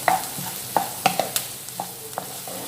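Onion sautés in a pan with a little salt for gobi manchurian, a soft sizzle punctuated by several sharp stirring clicks and taps of a utensil against the pan, close and unaccompanied by speech.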